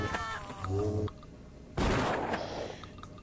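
Gunfire in the shooter game Blood, a burst of loud blasts with a heavy boom partway through, mixed with game effects and a brief overlapping voice.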